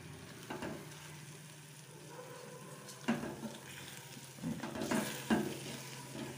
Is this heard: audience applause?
no